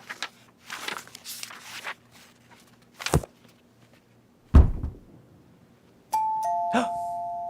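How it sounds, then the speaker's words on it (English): A few scattered thumps and footsteps, then a doorbell chimes its two-tone ding-dong near the end. "That's the doorbell. I wonder who that could be."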